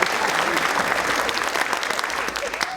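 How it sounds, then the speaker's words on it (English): Theatre audience at a live stand-up comedy show bursts into loud, dense applause, a close, continuous wash of clapping that fades slightly toward the end. "Give her a big round of applause."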